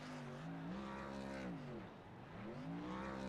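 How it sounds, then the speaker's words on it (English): A race car doing burnouts at North Wilkesboro in a racing league game, a steady engine roar with wavering revs that dip and climb again over a constant loud drone. "Let that man do his burnouts."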